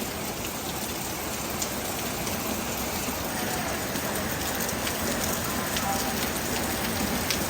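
Heavy rain pours steadily on a surface in Nakar during a flood, a dense, continuous hiss and patter with drops rattling throughout at constant loudness and no other sounds.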